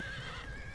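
A horse in the Age of Empires II video game whinnies once, a brief, steady high-pitched neigh standing alone with no talk.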